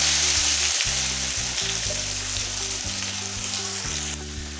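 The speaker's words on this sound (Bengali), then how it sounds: "আলুগুলি লাল লাল করে ভেজে তুলে নেব।" Potatoes frying in hot oil with a steady, close sizzle that runs throughout, broken by a few soft stirring scrapes.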